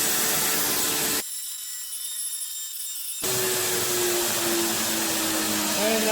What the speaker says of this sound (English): And that'll just about do it there for the grinding